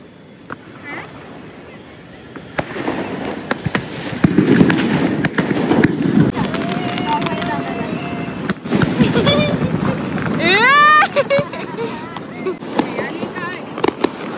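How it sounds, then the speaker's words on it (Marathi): Firecrackers and fireworks go off outdoors in a rapid run of sharp bangs and crackles, with a rising whistle partway through, while people talk and call out over the noise. "आम्ही आता बघा आजच्या दिवसातला लास्ट फटाका लावतोय"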